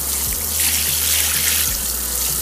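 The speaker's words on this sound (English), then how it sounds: "So now I'm just washing some sand." Sand being rinsed in water for an indoor fancy goldfish tub: a steady, close, fairly loud rush of running water with faint low thuds, no voices.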